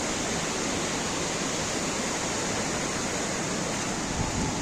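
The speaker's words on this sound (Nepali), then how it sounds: "रूप्से झरनाको दृश्य म देखाउन गइरहेको छु यता" Rupse waterfall on the way to Mustang, Nepal, a dense, continuous roar of falling water heard up close, loud and unchanging throughout, with no voices over it.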